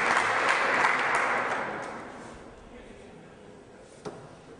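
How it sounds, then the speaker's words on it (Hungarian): Audience at a women's steel-tip darts final cheers and applauds in a broad wash of noise that gradually fades out, ending with a single sharp thud. "Jön is a biztatás a közönségtől."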